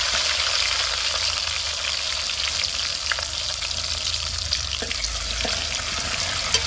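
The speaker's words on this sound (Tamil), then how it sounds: "இதனால வெங்காயம் தக்காளி எண்ணெயில் கொஞ்சம் நேரம் வதங்கி வரட்டும்" Chopped onion and tomato frying in oil in a pan, a steady close sizzle with faint crackles and occasional stirring taps, no talk.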